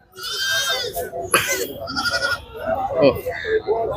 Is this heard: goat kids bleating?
yes